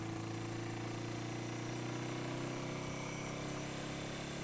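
A 1980 Yamaha XS400 Special II motorcycle engine drones steadily while riding, a continuous mid-pitched hum under wind rush, unchanging and fairly loud throughout.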